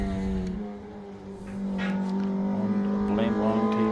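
Hillclimb race car number 951, driven by Linda Harper, holds a steady engine note at close range throughout, rising slightly in pitch near the end, with commentary running over it.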